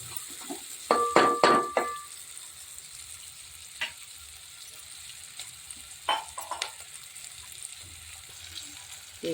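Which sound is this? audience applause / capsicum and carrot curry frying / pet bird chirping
capsicum and carrot curry frying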